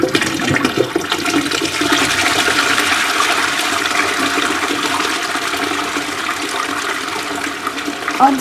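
A toilet flushing in a steady, loud rush of water that runs unbroken for several seconds, with no voices.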